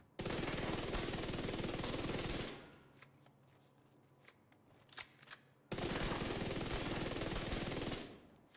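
Vector submachine gun fired in The Division 2, two long sustained full-auto bursts of a couple of seconds each, loud and close, separated by a quieter stretch of scattered smaller shots and game sounds.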